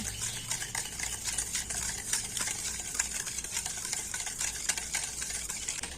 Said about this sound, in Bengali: একটা ব্লেন্ডার দিয়ে তেল চিনি আর টক দইটা না খুব ভালো করে ফেটিয়ে নেব